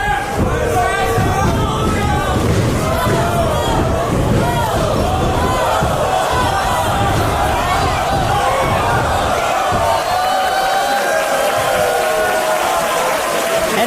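A packed arena crowd at a live pro wrestling event roars and cheers loudly and continuously, with chanting swells and scattered shouts, the noise easing slightly toward the end.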